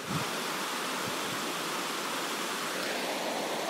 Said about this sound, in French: vous devez entendre un peu un bruit d'eau